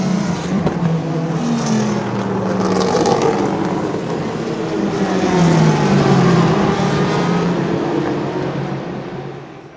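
Ford GT race car at racing speed on the Mulsanne Straight at Le Mans at night, a loud sustained engine roar with shifting pitch and a swelling pass of another car, continuous throughout.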